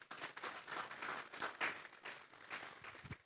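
A church congregation claps together, a faint, uneven burst of hands swelling and fading in waves, with some distant voices underneath.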